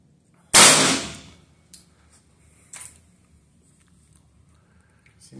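Air gun fired once right after being filled past a check valve: a single sharp, loud crack with a fading tail, then a few faint clicks and small knocks in a quiet room.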